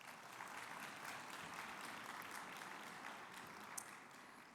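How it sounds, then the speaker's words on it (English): Faint, distant applause from a plenary session audience at a governor's conference on housing and economic development, an even continuous patter holding steady throughout. "Let's give him another round of applause."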